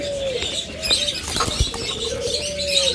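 A caged breeding pair of ringneck parakeets gives drawn-out calls, one near the start and another later, among light chirps and a brief flutter or rustle in the middle.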